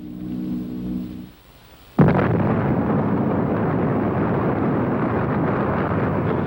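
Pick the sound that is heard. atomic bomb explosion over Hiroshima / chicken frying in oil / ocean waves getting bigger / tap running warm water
atomic bomb explosion over Hiroshima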